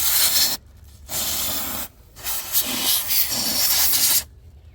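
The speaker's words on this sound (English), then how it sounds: "I just want to spray some of this compressed air around" Compressed air sprays in three loud hissing bursts while cleaning dirt around the EGR valve area of a 2014 Mercedes Sprinter-based Leisure Travel Vans Unity, with brief pauses between the blasts.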